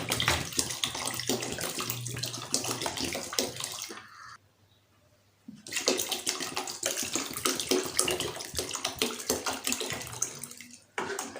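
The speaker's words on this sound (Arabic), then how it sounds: "هنطفي عليه وهننزل عليه بإزازة مية بالشكل ده كده." Water pours steadily from a bottle into a pot of Egyptian-style yellow lentil soup with vermicelli, a loud close splashing stream that stops briefly midway and then resumes.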